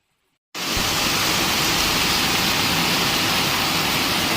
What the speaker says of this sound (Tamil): மழை பெய்யுது ரொம்ப சவுண்டா இருக்கு என்னன்னு பாருங்க